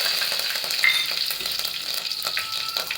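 Mustard seeds and curry leaves sizzling in hot oil for a sambar tempering: a loud, dense, continuous crackle and hiss up close, with no voices.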